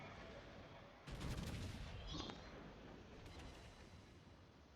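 Naval guns firing a broadside from the cruiser Atlanta in World of Warships, a loud booming volley that swells for about a second over steady engine and sea ambience, followed by a fainter second report.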